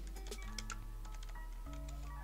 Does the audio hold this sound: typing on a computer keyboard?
yes